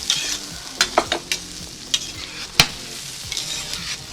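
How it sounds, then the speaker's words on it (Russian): Onions fry in butter inside a kazan over an open campfire. A steady close-up sizzle runs throughout, and sharp scrapes and knocks from stirring break through it at irregular moments. "Добавляем лук. Обжариваем его до золотистой."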